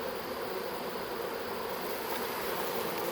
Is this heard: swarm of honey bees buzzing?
yes